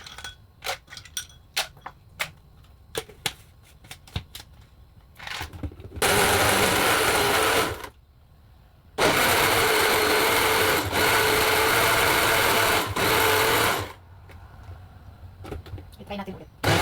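An electric blender whirs loudly while blending mixed fruit into a sugar-free shake, running in two long bursts separated by a short pause, with tapping and clicks before and after.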